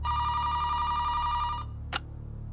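A telephone bell rings loudly and steadily for about a second and a half, then stops abruptly, followed by a short sharp click or clatter as the handset is picked up, with a low background hum throughout.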